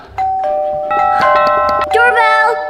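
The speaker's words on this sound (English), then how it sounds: "Doorbell." A doorbell rings at a house, a bright electronic chime melody with sustained ringing tones repeating for a couple of seconds, close and loud, followed by a higher second tone pattern.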